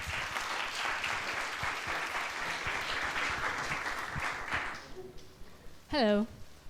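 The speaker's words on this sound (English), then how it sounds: "A big round of applause, everyone." Audience applause at a startup pitch event fills most of the clip, steady dense clapping that fades out near the end, followed by a short speaking voice.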